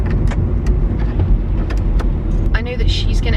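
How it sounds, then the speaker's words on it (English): A car passes at night, heard from inside another moving car over a steady low road rumble, with a brief brighter swell near the end. A voice is present. "Car."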